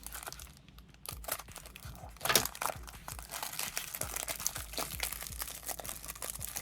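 Packing tape is peeled and cardboard packaging crinkled and torn while a Transformers Stranger Things toy is unboxed, giving close, irregular crackling and ripping with one sharper tear near the start.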